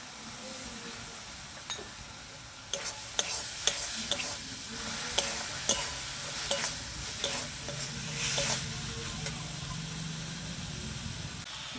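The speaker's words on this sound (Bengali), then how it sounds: "দিয়ে দেবো টমেটো বাটা, ভালো করে কষিয়ে নেব।" Meat ghugni masala with fried onion is sautéed in a pan, with a soft, steady sizzle under repeated scraping stir strokes, quiet and close.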